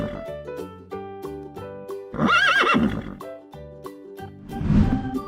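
A horse neighs over a bouncy musical backing, giving a loud whinny in the middle and a second shorter one near the end.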